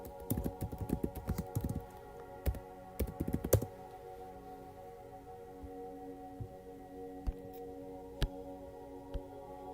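Rapid bursts of clattering keystrokes on a computer keyboard, dense at first then thinning to sparse single clicks, close by with a steady electrical hum underneath.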